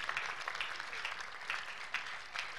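A church congregation at a miracle service claps together, a short burst of dense, moderately distant applause with a loose pulsing rhythm.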